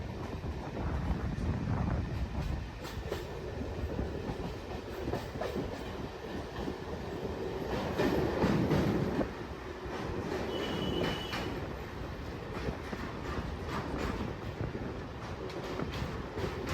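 A MEMU passenger train running between Cuttack and Puri, with a steady loud rumble of wheels on rails, rhythmic clatter and brief squeals throughout, no voices.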